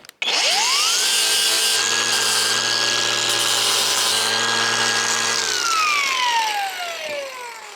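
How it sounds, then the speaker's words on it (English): A loud power sander whines steadily at a high pitch on the metal body of a Citroën AZU for several seconds, then the motor winds down as it is switched off. "I'm just going to do a little bit more sanding."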